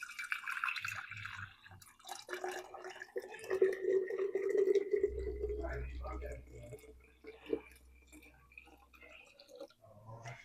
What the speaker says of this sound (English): I'm ready to start pouring this into my jars.